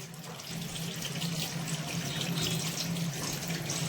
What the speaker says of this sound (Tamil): இது மாதிரி நம்ம ஒவ்வொன்றா கழுவி எடுத்துக்கலாங்க